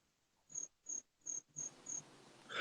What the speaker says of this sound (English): No, you gonna get crickets with that one.